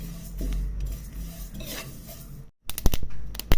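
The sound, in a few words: roasting flax seeds, white sesame and pumpkin seeds in a pan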